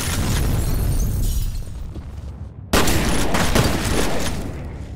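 Shotgun blasts from the horror shooter F.E.A.R., dense booming gunfire sustained throughout with a sharp loud discharge near the middle, layered with rattling debris and crashing impacts.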